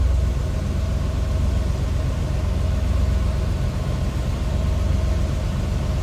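A 1978 Chevrolet Corvette idles steadily through a newer exhaust, a low, even burble with no revving, close by and with no talking.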